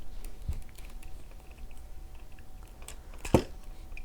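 Plastic panels of a Fans Toys FT-42 Hunk transforming figure being folded, soft close clicks and ticks scattered through a quiet stretch, with two sharper snaps standing out.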